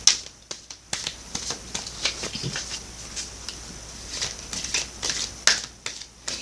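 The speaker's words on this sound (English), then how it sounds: "now let me shuffle for you from the Sacred Rebels Oracle deck by Elena Fairchild." Sacred Rebels Oracle cards are shuffled in quick, irregular bursts of crisp flicks and snaps, close up and fairly quiet, with short pauses between them.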